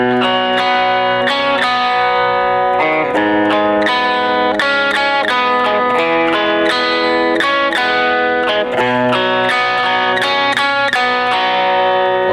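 An electric guitar plays steady, driving rhythm chords from a song with a distorted, effects-laden tone, each strum sharp and loud in a continuous repeating pattern.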